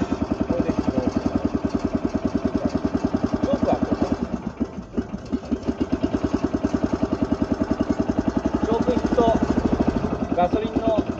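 A small farm transporter's petrol engine idles right after starting, a loud, close, steady chugging putter with an even rapid rhythm throughout, briefly dipping midway, with a voice speaking over it.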